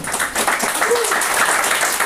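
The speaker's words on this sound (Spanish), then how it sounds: "Denle un fuerte aplauso al Señor, amén." Church congregation claps briefly during a Spanish-language worship service, a dense, steady round of applause with faint voices mixed in.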